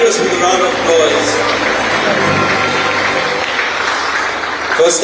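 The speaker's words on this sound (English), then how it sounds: "Come on, let's get generous with a round of applause." A football awards ceremony audience breaks into sustained loud applause, a dense wash of clapping and crowd noise from many hands that carries on steadily to the end.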